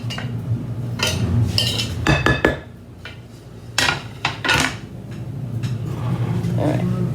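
A spoon stirs and scrapes meatloaf ingredients with cheese in a bowl, giving clustered clinking and scraping bursts close up, then quieter mixing as a person talks alongside.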